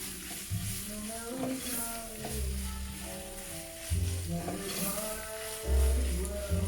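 Ground meat and Swiss chard sizzle steadily in a hot pan, a continuous crackle with occasional stirring clatter, while music plays underneath.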